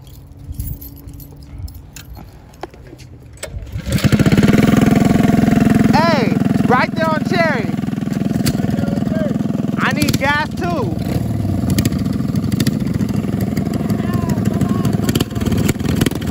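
A motorbike engine fires up after a short quiet stretch, then idles loudly and revs in a few sharp bursts up close, while people talk over it throughout.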